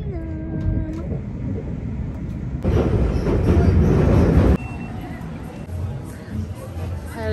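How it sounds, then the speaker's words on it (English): Rumble and wheel noise of a train ride in London carry through the whole stretch, growing louder and denser in the middle as if picking up speed, with faint background chatter from other passengers. "I'm just on the train to go and meet William."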